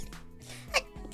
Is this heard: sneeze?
yes